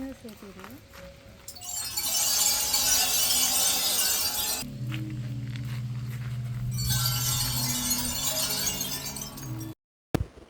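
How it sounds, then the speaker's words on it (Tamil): Small pebbles clatter and rattle in bursts against hard rock in a sound garden, a dense gritty shower of clicks, with a low hum and faint voices underneath. "இந்த பாறைக்குள்ளே குட்டி குட்டி ஜல்லிக்கல்லை போட்டோன்னா அது ஒரு மாதிரி சவுண்ட் வருது."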